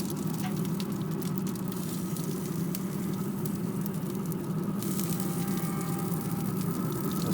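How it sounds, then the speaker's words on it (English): Butter sizzling beside a smoked turkey breast gives a steady, dense frying hiss that holds at an even level throughout, with no one speaking. "And you can hear that sizzling."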